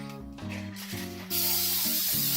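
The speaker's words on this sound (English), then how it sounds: "Spray it down pretty good on both sides." Cooking spray hisses from a can onto the plates of a hot quesadilla maker in a home kitchen, with a short burst and then a loud, steady close-up spray over a low background hum.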